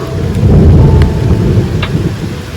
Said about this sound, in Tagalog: Oh, inaabot na kami ng ulan.